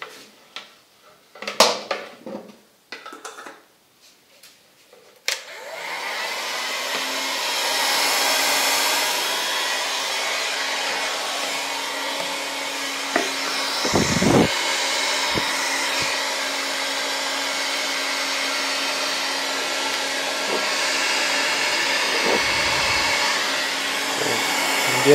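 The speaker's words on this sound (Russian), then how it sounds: "Включаем наш фен." A steady, loud whoosh of hot air from a heat gun shrinking tubing on a bicycle seatpost, running continuously after a few brief clattering handling noises at the start.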